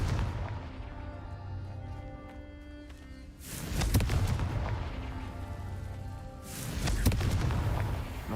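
A Confringo spell blast in a Harry Potter-style video game, two broad booming explosions bursting about three seconds apart over a constant low rumble of game ambience.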